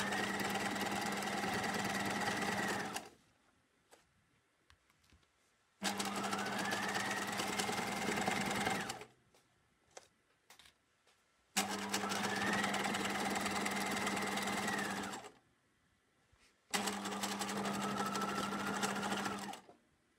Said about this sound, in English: I'm just going to sew down a 1/4-inch seam.